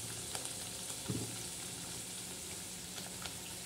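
Black masala, the dark spice mix for a rustic village-style goat mutton curry, roasting in a pan with a steady low sizzle and faint crackle, plus a brief stir or scrape near the middle.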